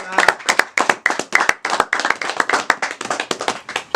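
A congregation claps during a church service, a burst of quick, uneven, close-up hand claps that stays lively for the whole few seconds.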